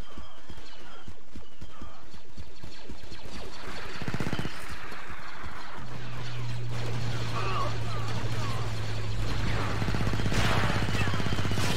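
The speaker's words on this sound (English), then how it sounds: "I don't even know where most of these gunshots are coming from." Gunfire in Star Wars Battlefront 2 on the Tatooine desert battlefield, with steady blaster shots and battle noise under someone talking throughout.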